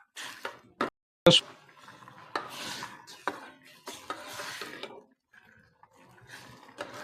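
A spoon scrapes and rubs around a bowl while vinegar and sauce for Tibetan thukpa noodle soup are mixed, close, irregular strokes with short pauses and one sharp knock early on.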